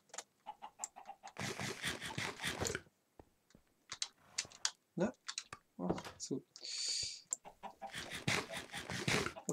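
Minecraft chickens cluck over and over in busy, choppy bursts, loud and close, while someone speaks briefly between them.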